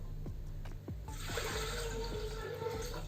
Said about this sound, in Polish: Dodajemy 800 gram wody.